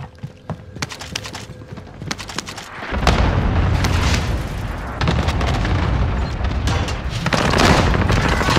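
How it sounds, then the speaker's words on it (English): Cluster strike explosions and gunfire in a shooter video game: sharp scattered shots at first, then a loud sustained rumble of blasts and rapid fire that swells and continues to the end. "Enemy cluster strike."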